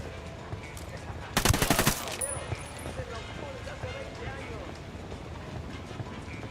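Short burst of rapid automatic gunfire in the shooter game Ghost Recon Wildlands, a loud rattle lasting under a second amid quieter game ambience.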